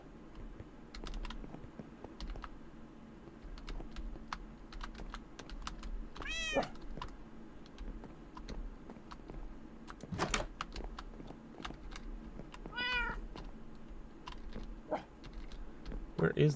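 A cat meows in the Minecraft video game, with two short rising and falling meows spaced several seconds apart. They sound over quiet keyboard typing and clicking, with low game ambience underneath and a person talking.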